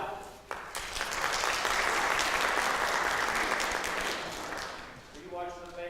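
A theatre audience claps together to vote at a Princess and the Pea show, a sustained burst of applause lasting several seconds and fading at the end, with a brief voice at the start and close.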